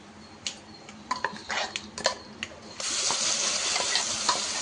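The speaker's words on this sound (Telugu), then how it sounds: "ఇప్పుడు మనం నూరి పెట్టుకున్న పచ్చిమిర్చి ఉల్లిపాయ పచ్చడి దీంట్లో వేసేసుకుందాం" A ground green chili and onion chutney drops into a hot pan with curry leaves, turning scattered stirring clinks and scrapes into a sudden loud, sustained sizzle partway through, with no talking.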